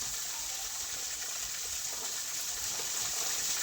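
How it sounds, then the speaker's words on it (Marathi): Tap water runs steadily into a storage tank with a constant, even gushing hiss and no pauses. "आठला पाणी भरून घेते आता पिण्याचं आणि बाहेरचं"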